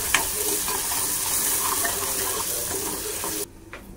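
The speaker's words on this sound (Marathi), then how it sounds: "थोडंसं तेलामध्ये परतून घेऊ आपण।" Ground masala sautéing in hot oil, with a dense, close sizzle and some stirring scrapes that run steadily and then drop away abruptly near the end.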